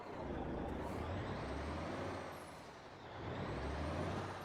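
A heavy semi truck in American Truck Simulator reverses a trailer, giving a steady, dense rumbling engine roar with a hissing air-brake wash on top. The level dips briefly midway, then swells again, with no talking.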